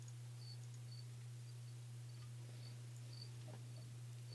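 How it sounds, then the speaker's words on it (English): A cricket chirps faintly in short, regularly spaced bursts behind a steady low electrical hum on an open online-meeting microphone, with no one talking. "I think somebody's got a cricket, too."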